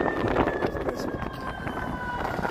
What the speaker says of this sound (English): Sirens, welcome back to Chicago, Land of Sirens.